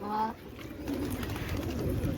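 Pet pigeons coo softly in a short, low burble close by, with a voice speaking over the start.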